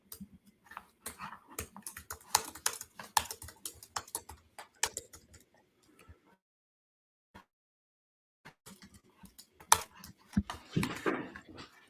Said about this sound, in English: I'm just typing up a little welcoming thing here.